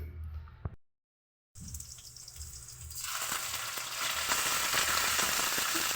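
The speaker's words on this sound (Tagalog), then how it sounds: "nagisa na po siya ng bawang at saka sibuyas" Garlic and onion sauté in hot oil for chop suey, a steady close sizzle that cuts out briefly, then returns and swells louder and denser with crackling frying noise.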